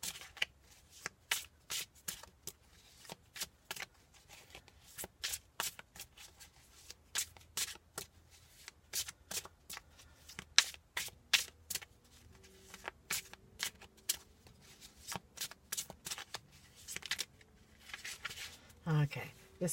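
Tarot cards from a Steampunk Tarot deck are shuffled by hand in rapid bursts of crisp riffling slaps and flicks, close and fairly quiet, repeating across the whole stretch in uneven clusters.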